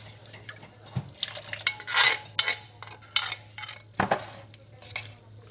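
A spoon stirs thick Lao bamboo shoot curry with yanang leaf juice in a metal pot, giving repeated scraping clinks against the pot bottom and sides, close and fairly loud in irregular bursts with soft liquid sloshing and no talk.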